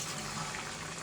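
A katla fish curry with cumin paste boiling in a pot, a soft, continuous bubbling simmer heard up close and quiet, with no voices.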